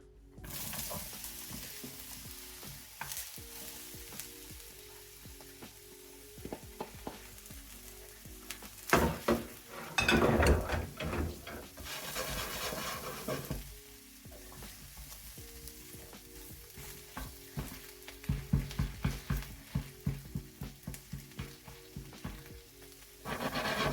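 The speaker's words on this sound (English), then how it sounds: "oil in this frying pan, and I'm just going to add my shallots, red peppers and the broccoli" Shallots, red peppers and broccoli sizzle and fry in an oiled pan, with stirring scrapes and bursts of louder crackling as food is tossed, close and steady throughout.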